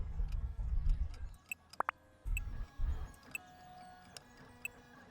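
A figure printing machine running in Figure Shop Simulator, with soft rhythmic ticks and clicks from the printer mechanism, close and quiet, interrupted by low thumps of handling and a couple of sharp clicks.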